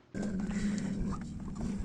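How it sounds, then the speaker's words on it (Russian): A pet growling at a first meeting with a new housemate, a sustained low rumbling snarl that starts abruptly and holds steady and close for nearly two seconds. "Знакомство, как и ожидалось, было бурным, под звуки рычания Мархи."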